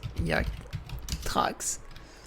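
Someone types a search on a computer keyboard, making a few quiet, scattered key clicks with voice-like sounds around them.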